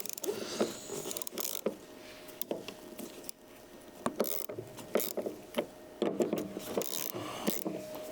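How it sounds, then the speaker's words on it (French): Tools work on a Porsche 911 door striker as its bolts are loosened, with scattered close ratcheting clicks, metallic scrapes and small knocks in an uneven rhythm, and no talking. "Donc là on desserre notre gâche."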